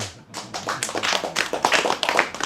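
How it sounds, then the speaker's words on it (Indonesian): An audience at an Indonesian religious talk claps for the preacher's wife. The clapping is close and fairly loud, a dense burst of hand claps that stays strong for the whole moment, with no voices over it. "tepuk tangan untuk istriku"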